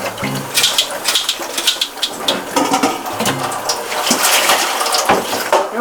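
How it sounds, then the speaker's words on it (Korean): Salted cucumbers are rinsed under running tap water in a strainer, giving uneven splashing and sloshing bursts that rise and fall as the water pours over them, with no voices. "이제 오이를 마지막으로 한번 헹궈줘요."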